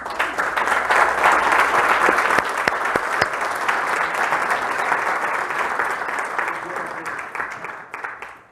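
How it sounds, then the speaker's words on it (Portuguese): A church congregation claps loudly and continuously for about eight seconds, a full, even wash of applause that tapers off at the end. "Palmas para Jesus."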